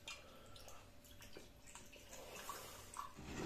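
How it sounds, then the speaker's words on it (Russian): Jack Daniel's whiskey, about 50 grams, is poured into a glass, giving a soft, steady liquid trickle with faint gurgles and splashes that grow slightly louder toward the end, close by and without voices. "Наливать 50 грамм виски."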